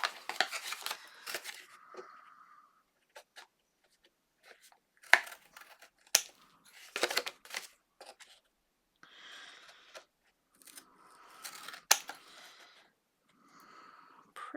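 Paper corner being mitered with scissors while decorating a vintage berry-themed mini album: close, quiet snips and crisp paper rustles come in short irregular bursts separated by pauses, with no voice.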